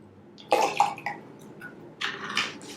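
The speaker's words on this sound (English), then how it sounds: "Pour a little more water in there and a little more phosphate fertilizer." Water poured into a container holding phosphate fertilizer, with two short splashing bursts separated by a quiet gap, close and fairly loud.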